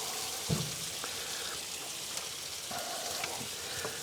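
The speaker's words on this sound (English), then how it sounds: "It's been an hour on those beans. This is my second pan of beans that's in there. So let's stir them up good." A pan of beans being stirred inside a smokehouse cooker, with a soft steady sizzle and faint scraping and clinking of the spoon, fairly quiet and close.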